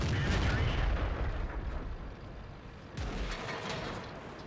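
Artillery fire in the tank game World of Tanks: heavy booming blasts with a dense, loud rumble, a fresh impact striking near the three-second mark over continuous battle noise.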